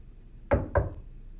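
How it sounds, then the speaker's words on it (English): Knocking on a student's residence hall room door: two sharp, close knocks in quick succession, loud against a quiet background with no voices. "You will knock 3 times, introducing yourself every time."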